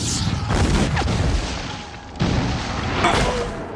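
Period battle scene from The Patriot, with heavy booming cannon fire and the crashing thud of cannonballs striking, a few loud dull impacts in a dense, noisy film soundtrack.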